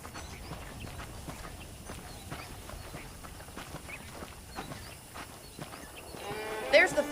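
Horses walking in the video game Red Dead Redemption, soft irregular clip-clop hoofbeats at a walking pace, faint and under game ambience, with a louder burst near the end.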